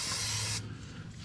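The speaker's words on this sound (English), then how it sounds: "I'd like to give this a real good spray with some brake clean." Brake cleaner sprayed around the oil filter area of a 2006 Harley-Davidson Street Glide, a close, loud aerosol hiss lasting about half a second before cutting off into quieter room noise.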